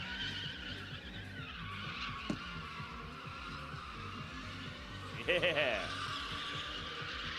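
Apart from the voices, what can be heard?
drift car doing donuts, tire squeal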